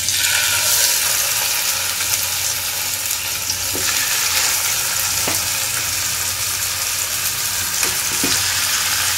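Chicken fries in oil in a pan over a low flame for a peri peri dish, giving a loud, continuous sizzle with occasional stirring scrapes and no talking.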